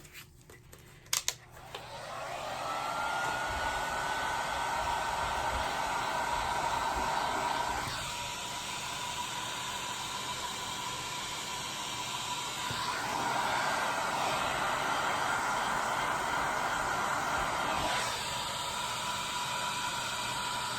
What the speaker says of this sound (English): Remember not to leave your heat gun or torch on your mold for too long